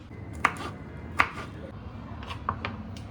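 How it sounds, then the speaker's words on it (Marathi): Knife chopping dried fenugreek leaves on a board, a few sharp crisp cuts spaced apart over quiet background. "आता मी पटपट चिरून घेते"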